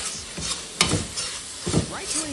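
Kasuri methi being stirred into a palak paneer gravy in a pan, giving a few scraping spoon strokes over a soft steady sizzle, close and moderately quiet.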